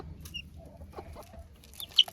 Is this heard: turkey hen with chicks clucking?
yes